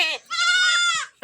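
A goat tied up outside on a village farm in the morning bleats loudly once, a long wavering close cry, with brief faint bleats just before and after.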